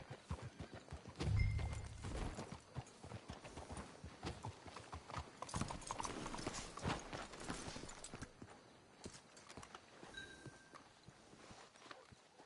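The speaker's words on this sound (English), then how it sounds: "Let's hitch the horses up ahead." Video game horse hooves clip-clop steadily along at a walking pace in Red Dead Redemption 2, moderately close, with a brief neigh and faint ambient background.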